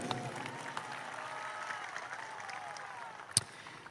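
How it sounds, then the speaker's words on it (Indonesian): Applause from an audience at a religious lecture in Indonesia, fairly faint and diffuse clapping with a murmur of voices underneath and one sharp, louder clap near the end. "Kita berikan tepuk tangan untuk beliau."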